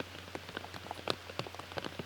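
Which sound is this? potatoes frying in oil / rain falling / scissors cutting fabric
rain falling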